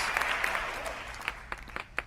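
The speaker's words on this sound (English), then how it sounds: "The audience claps for the producers." A studio audience applauds the producers of a dating show, a faint, dense patter of clapping that dies away into a few scattered individual claps.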